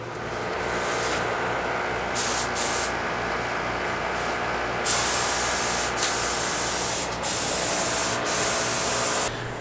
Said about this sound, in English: So I'm gonna go shoot another like 2 coats and see how that turns out.